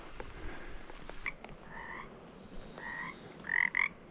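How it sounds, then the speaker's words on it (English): Frogs croak in short paired bursts at a roadside by a logging cut in spring British Columbia woods, a few calls spaced across the moment and louder toward the end, with no talking. "These frogs are not happy we're here."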